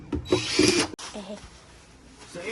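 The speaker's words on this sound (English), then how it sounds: "you want to drill some holes into the container so the water can drain off" A power drill bores drainage holes into a garden container, a short whining burst that stops abruptly at about one second, followed by quieter handling noise and a faint voice.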